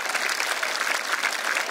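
An audience at a school tribute event honouring martyrs gives steady, vigorous applause, a loud, dense wash of clapping from many hands throughout.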